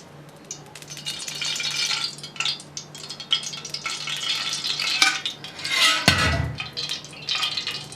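Hot ghee poured into a pan to start an Indian masala base, giving a steady sizzle with metallic clinks and stirring scrapes, a brief louder hiss near the end, close and clear with no voices.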